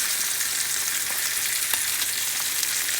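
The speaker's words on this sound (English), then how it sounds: "You let the butter melt." Butter melting around a tomahawk steak in a hot pan, producing a steady, bright close sizzle with faint crackles and no voices.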